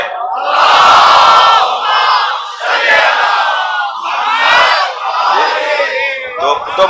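A mosque congregation at a Muharram majlis loudly recites salawat in unison, a dense, roaring chorus of many voices rising in repeated swells, close and filling the space.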